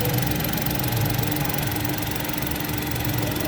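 Toyota Raize engine idling at steady speed, a continuous close-up mechanical hum with a faint rattling texture and no talk, heard during a CVT fluid change.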